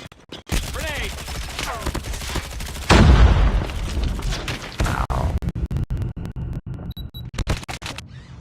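A grenade blast in the mobile shooter Call of Duty Blackout lands amid rapid gunfire bursts, a sharp loud crash near the three-second mark followed by continued clattering shots and brief game voice callouts.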